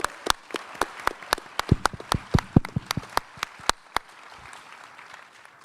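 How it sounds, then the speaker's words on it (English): Sparse applause from a conference audience, a handful of distinct, well-separated claps for about four seconds, then trailing off into quiet room noise. "Give these guys a round of applause,"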